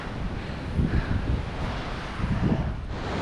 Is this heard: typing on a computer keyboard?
no